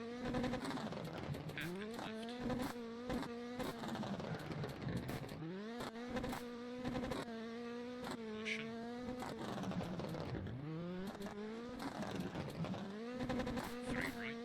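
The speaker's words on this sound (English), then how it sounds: "I've always hated car noises." Engine noise from a car in a driving video game, a droning, shifting engine tone that rises and falls in pitch with repeated revving, heard alone and fairly steady throughout.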